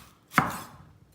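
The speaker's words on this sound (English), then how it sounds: "So we're gonna just do a julienne for these." One crisp knife chop through a bell pepper on a cutting board while cutting julienne strips, a single close thud with a short fading tail and no talking.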